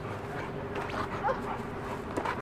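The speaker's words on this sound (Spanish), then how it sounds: "Esto es tener un perro loco." An excitable dog barks and yips in short bursts, close and fairly loud, mixed with faint background voices.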